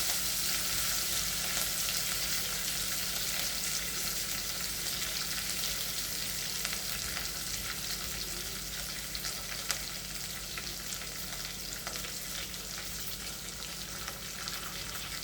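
Onions, green chili, curry leaves and ginger fry in a pan for eggplant rice, giving a steady, close sizzle with faint stirring crackles throughout and no talk.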